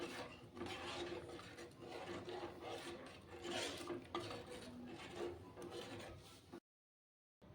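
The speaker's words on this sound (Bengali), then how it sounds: "সুজিটা দিয়ে এইভাবে নাড়তে হবে।" A cup of semolina is stirred in a pan with close, rhythmic scraping and rubbing strokes that run continuously before cutting to silence.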